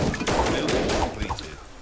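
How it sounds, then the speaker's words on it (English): Bursts of gunfire from the zombie survival strategy game They Are Billions, a dense crackling fusillade of rapid shots that thins out toward the end, with no talk over it. "the gunfire is going to start attracting zombies from all over the place"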